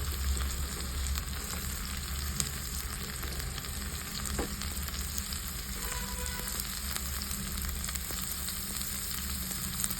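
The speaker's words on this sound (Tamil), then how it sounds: "வெங்காயம் ஓரளவுக்கு இந்த மாதிரி வதங்கி வந்திருக்குல்ல, இப்போ நம்ம தேங்காய் சேர்த்துக்கலாம்." Sliced onions and grated coconut sautéing in a pan for a peanut chutney, giving a continuous close sizzle with occasional stirring scrapes and no voices.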